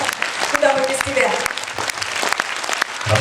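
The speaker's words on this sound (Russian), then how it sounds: "Аплодисменты, аплодисменты." Audience applause at a Russian pop concert, fairly loud clapping with uneven bursts, mixed with voices and stage sound.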